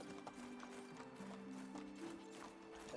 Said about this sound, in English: Giddy up. Let's see if the horsey can handle it.